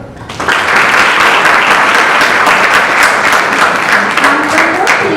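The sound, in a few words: applause welcoming a quiz team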